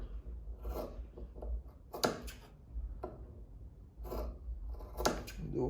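Vinyl interior trim on a 1934 Chevy hot rod utility being cut and trimmed with scissors, giving short crisp snips and rubbing scrapes in irregular bursts, close and fairly quiet, with no talking.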